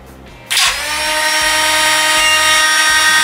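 A Parkside PWSA 12-Li A1 cordless angle grinder starts up unloaded with a sharp surge, then holds a loud, close, high-pitched steady whine with no cutting or grinding contact.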